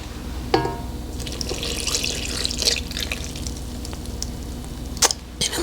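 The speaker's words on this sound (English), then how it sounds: "One cup of milk instead of water." Milk poured from a cup into a bowl of German chocolate cupcake batter made from a box mix, a soft steady liquid pour with a few sharp clinks and taps from kitchenware. No one speaks.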